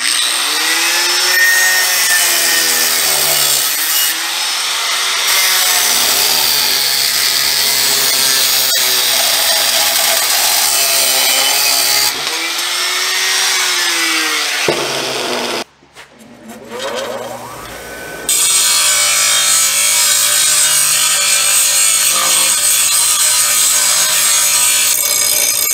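A power cutting tool grinds through a metal collar on a steering shaft for a 1940 Chevy coupe rack and pinion build, a loud sustained whine with pitch wavering under load, briefly stopping then resuming.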